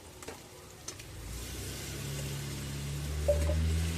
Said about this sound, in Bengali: একটু মশলার সঙ্গে ওলগুলা দিয়ে বেশ সুন্দর করে কষে নেব।